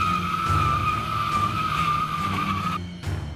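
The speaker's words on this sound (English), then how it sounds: "put that car in reverse and slammed the gas pedal" A car reversing hard with the gas pedal slammed, its tires skidding in a loud, sustained screech that holds steady for nearly three seconds and then cuts off sharply.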